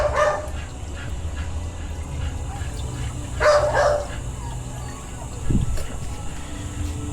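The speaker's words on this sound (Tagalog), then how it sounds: "Ingay ng aso namin." A dog barks in a few short bursts, spread apart against a low background hum, with faint voices around.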